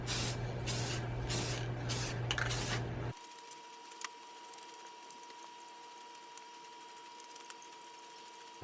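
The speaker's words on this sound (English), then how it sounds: "let's go ahead, get spraying, finish this thing up" Several short hissing bursts of aerosol spray paint onto a car cupholder part pulse rhythmically, then cut off, leaving a quiet room with a faint steady hum.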